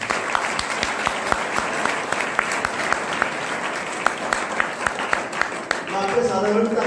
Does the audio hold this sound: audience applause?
yes